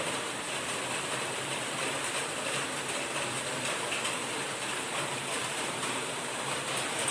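A dense, steady roar of heavy rain and rushing water continues without a break by the Talawade bridge during a downpour, loud and close throughout.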